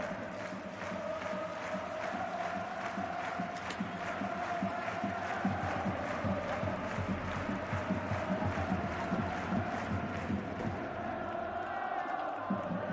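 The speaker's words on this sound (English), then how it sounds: "Even with the scoreline so bleak, continue to cheer on their side so adamantly." Home football fans in a packed stadium during a Urawa Reds versus Cerezo Osaka Levain Cup second leg, sustained rhythmic chanting and cheering from a large distant crowd with regular drum-like pulses throughout.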